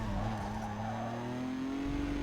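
A tuned car in Need for Speed Underground accelerates uphill around a circuit, its engine note climbing steadily in pitch with a constant droning roar and some tyre noise.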